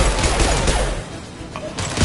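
Gunfire from a Mass Effect 2 firefight against Blue Suns and Orchard mercenaries, a dense loud fusillade of overlapping shots with no voices.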